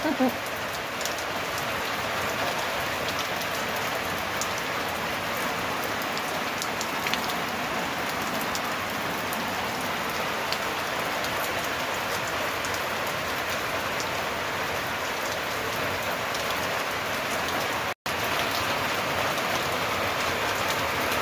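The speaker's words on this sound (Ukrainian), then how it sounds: "Шум дощу." Steady rain falls continuously, a dense hiss of drops pattering on surfaces with no pauses, close and fairly loud.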